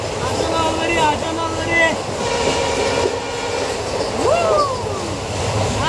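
A passenger train runs between Guwahati and Nagaon, giving a loud, continuous rumble of wheels and carriage noise from inside, with faint squeals rising over it. A voice talks in the carriage now and then.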